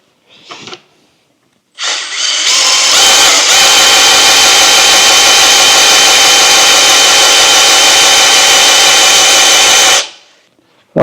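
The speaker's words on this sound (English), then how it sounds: "Try turning the engine over." Engine cranking on a Scout's 152 Comanche four-cylinder with the valve cover removed: a short burst, then a loud, steady whirring drone held for about eight seconds before cutting off abruptly.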